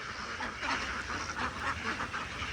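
Many farm ducks quack in a dense, continuous chorus, loud and close, with overlapping calls throughout.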